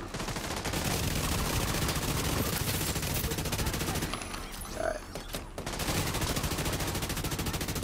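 Kingbreaker assault rifle fire in The Division 2, loud rapid automatic bursts in a sustained stream, a brief pause midway, then firing resumes.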